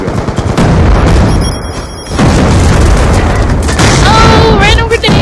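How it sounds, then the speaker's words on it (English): A grenade blows up in a shooter video game with a loud, close boom among bursts of gunfire, followed by a brief lull and more heavy shooting, while a player talks near the end. "Oh, random grenade."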